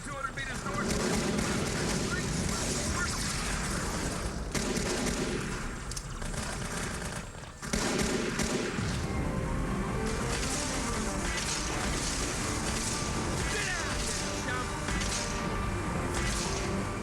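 Artillery and gunfire from a video game demo, rapid bursts of shots and heavy booms in a dense continuous barrage, with voices talking over the battle.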